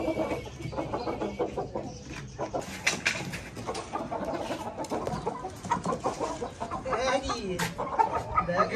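Shamo chickens in a breeder setup cluck and call from close by, with steady overlapping bird sounds throughout and someone talking over them.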